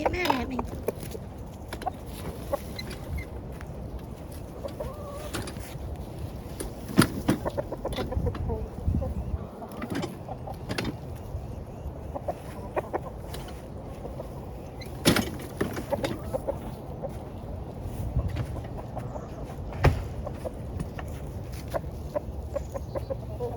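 Chickens cluck in a backyard chicken run with hay, giving scattered soft clucks and short calls throughout, along with occasional knocks and rustling nearby.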